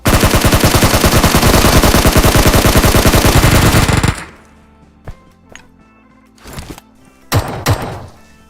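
Automatic gunfire sprayed at enemies in an online shooter game, a loud, rapid, continuous burst lasting about four seconds, then quieter scattered thuds and short bursts.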